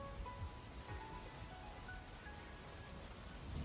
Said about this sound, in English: And I love the rain at the end.